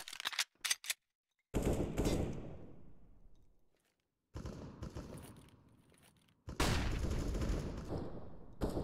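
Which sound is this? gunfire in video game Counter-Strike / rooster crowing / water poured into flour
gunfire in video game Counter-Strike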